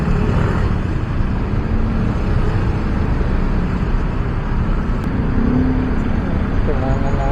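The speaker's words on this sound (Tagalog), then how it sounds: "Grabe yung traffic." Steady road traffic rumble fills the scene during heavy congestion on a rainy day, a constant loud engine and tire drone with talking over it.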